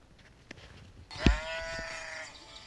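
A single video game sheep bleats once, a drawn-out wavering call over a quiet background with a few soft clicks.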